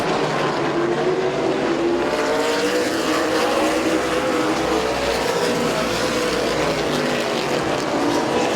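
Race cars battling for the lead at Midvale Speedway, a dense, loud roar of several engines running continuously with slowly shifting pitch as they circle the track, without any audible talk.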